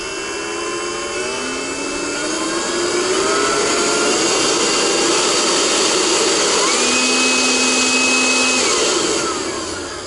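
Handheld leaf blower for an RV with a variable speed trigger, running steadily and loud up close, its whining motor pitch stepping up and down as the trigger is squeezed and eased, with no talking over it.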